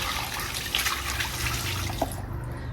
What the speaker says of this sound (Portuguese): Agora é só colocar água.